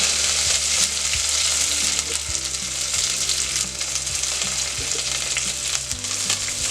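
Fresh coriander sautés in a clay pot as the base for a Malvani maandeli fish curry, giving a loud, continuous sizzle with stirring scrapes over faint background music.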